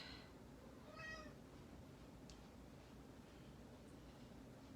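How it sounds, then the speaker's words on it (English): A cat gives a couple of soft, short meows over a steady low hum, faint and somewhat distant. "Some kitty chatting."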